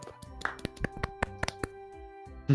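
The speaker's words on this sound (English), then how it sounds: "Golf clap." Sparse, quiet golf clap: a handful of soft, separate hand claps at an uneven pace, close and dry, with a little background game music.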